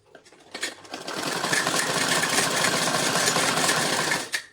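Sewing machine stitching the seam of an A-line suit, running in a steady continuous whir with fast, even needle rhythm from start to finish, close and loud, with no talking.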